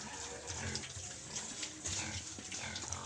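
Native piglets for sale in Iloilo grunt and squeal softly nearby, a faint continuous jumble of small pig noises over light background noise.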